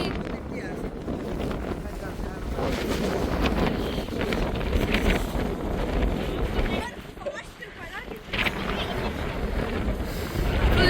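Strong, steady cold wind buffets the microphone on an exposed mountain trek near Gangadikal, a loud continuous rush with brief lulls, and voices are faintly present underneath.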